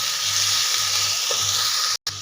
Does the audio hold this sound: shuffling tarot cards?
no